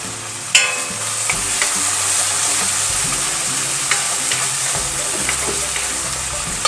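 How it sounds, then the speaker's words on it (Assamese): Whole spices, fried earlier, tipped into a spicy masala chicken curry set off a steady, close sizzle and frying hiss with stirring scrapes and a sharp clatter near the start, all without speech. "তাৰ পাছত মই ইয়াত দি দিম যিখিনি গোটা মছলা মই ভাজি থৈছিলোঁ সেইখিনি ইয়াত দি দিম"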